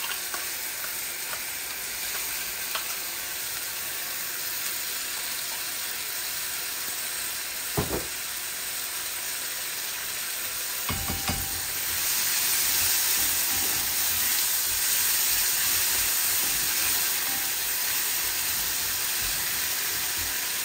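Onions sizzle in a frying pan with egg as tomato puree paste goes in, a steady loud hiss with occasional stirring clinks that swells louder partway through, close and continuous without speech.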